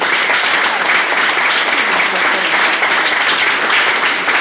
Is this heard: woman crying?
no